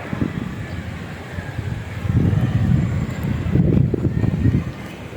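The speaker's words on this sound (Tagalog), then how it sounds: "Pero mahangin. Kaya eh, sana hindi malaglag" Wind blowing across a hot, sunny rooftop where laundry is hung to dry, a broad low rushing that swells in gusts midway, buffeting the microphone.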